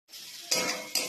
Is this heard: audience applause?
no